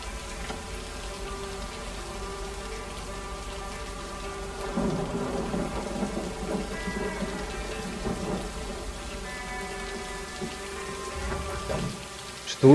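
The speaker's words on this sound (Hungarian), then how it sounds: "Meg a villámhang, meg a dörgéshang, minden." In the video game Lake, a constant hiss of rainfall runs under low rolling thunder that builds midway and lingers. A faint insect-like chirping weaves through, and a sudden louder burst hits at the very end.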